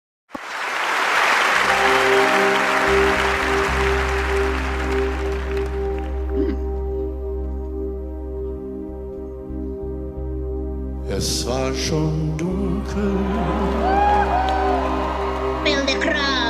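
A concert audience applauds and cheers loudly at a performance of a song, with a few whoops, before music enters and the applause fades under a singing voice.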